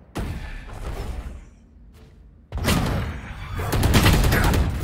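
Gunfire in Valorant comes in bursts: scattered shots at first, a quieter lull, then loud rapid volleys of close, sharp reports that run to the end.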